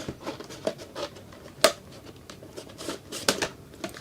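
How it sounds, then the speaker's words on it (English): Scissors opening the packaging of an AMD Ryzen 5 3600 CPU with its Wraith Prism cooler, heard as a few sharp snips and rustling crinkles of box and plastic, close by with no talking. "I've got some scissors around here."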